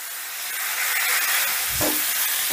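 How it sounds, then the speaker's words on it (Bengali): Potato and pumpkin pieces hiss and sizzle steadily as they fry in a spiced oil tempering for a vegetarian pumpkin and dal curry, a close, continuous frying sound that swells briefly toward the end. "আমি এখানে ফোড়নের সাথে একেবারে আলু কুমড়োটা দিয়ে কষিয়ে নিচ্ছি"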